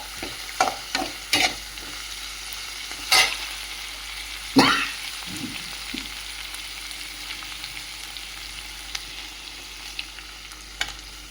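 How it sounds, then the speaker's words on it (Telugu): Nalleru (Cissus quadrangularis) stems frying in a pan, with a spoon scraping and stirring in a few sharp clanks early on, then a soft steady sizzle that continues alone. "ఇప్పుడు ఈ విధంగా నల్లేరుని బాగా వేయించాలన్నమాట"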